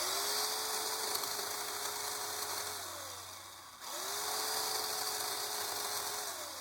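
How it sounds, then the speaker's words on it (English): A chainsaw cutting runs with a steady high-pitched motor whine nearly throughout, dipping briefly as the engine eases off, then returning to a constant buzzing drone. "I'm going to take this chainsaw here and I'm just going to cut through"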